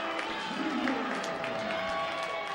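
A college men's basketball home crowd cheers and applauds after a dunk in a gym, a sustained, fairly distant roar of clapping and shouts filling the whole moment.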